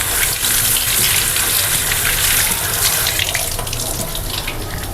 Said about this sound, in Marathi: ही मूठभर कोथिंबीर ही धुवून घेते